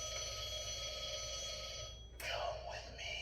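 A battery-operated Halloween decoration phone rings with a steady electronic bell tone that cuts off abruptly near the end, followed by a brief burst of other noise.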